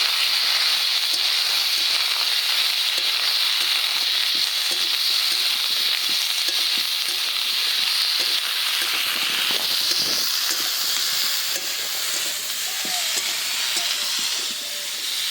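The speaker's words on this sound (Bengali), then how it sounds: "এবার এটাকে খুব ভালো করে আগে ভেজে নেব।" Small fish frying in a pan with salt, turmeric and green chillies, a steady loud sizzle and hiss with faint stirring scrapes throughout.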